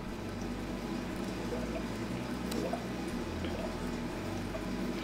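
Aquarium water with micro bubbles in a guppy and tetra tank, a faint continuous fizzing hiss with soft trickling and tiny ticks, steady and close, with no voices.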